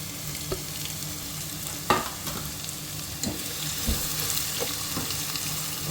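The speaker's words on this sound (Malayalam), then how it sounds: "വെളുത്തുള്ളി, പിന്നെ ഇന്ത്യൻ സ്റ്റൈലല്ലേ കുറച്ച് കറിവേപ്പിലും ഇടാന്ന് വെച്ചു. ഇതൊന്ന് മൂപ്പിച്ചെടുക്കാം." Garlic, curry leaves and carrot sauté in a pan for Maggi noodles: a steady frying sizzle runs throughout, punctuated by several sharp clinks and scrapes of a spoon stirring against the pan, up close.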